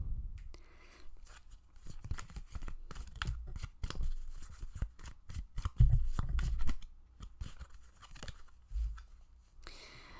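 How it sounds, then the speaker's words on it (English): Tarot cards being shuffled and drawn by hand, a close series of quick papery riffles, slaps and rustles with irregular bursts and brief pauses. "Let's get some more cards."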